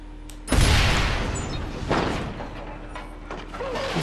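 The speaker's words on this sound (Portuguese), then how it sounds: "Explodindo tudo." Explosions in Watch Dogs Bad Blood: a loud, sharp blast with a booming low rumble decays over about a second, followed by a second weaker burst and lingering debris and game noise.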